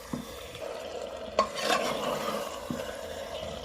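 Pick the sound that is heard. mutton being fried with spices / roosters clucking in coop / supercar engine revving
mutton being fried with spices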